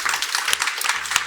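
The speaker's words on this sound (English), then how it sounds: "Let's give a handful of applause to the panelists." Audience at an investors roundtable forum applauds the panelists with a brief burst of close clapping and sharp individual hand claps.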